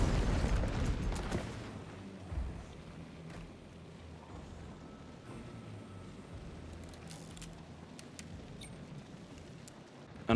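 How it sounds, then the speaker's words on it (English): A red barrel detonating in the game Hunt: Showdown, set off by a shot lantern, gives one loud, close boom at the start that rolls off over about two seconds into a quieter ambient tail with scattered faint knocks. "If you shoot a lantern, you will detonate a red barrel, potentially killing everyone there."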